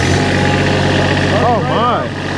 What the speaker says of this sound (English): It's got a cute little Kubota, little 3-cylinder engine that runs the thing. And let's see if she'll fire up.